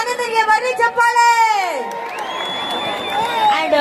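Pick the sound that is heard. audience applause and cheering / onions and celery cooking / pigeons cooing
audience applause and cheering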